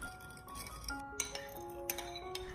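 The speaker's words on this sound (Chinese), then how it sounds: "然后我们用勺子将它搅拌一下，将它搅拌均匀，将里面的所有调味料充分的搅拌至化开。" A spoon clinks against a bowl while stirring a sweet-and-sour sauce of white sugar and light soy sauce, producing several bright, close glassy taps at irregular intervals.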